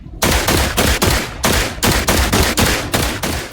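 A rapid string of loud gunshots from the survival video game The Last Caretaker fires a few times per second, each blast sharp and booming, with short gaps between bursts.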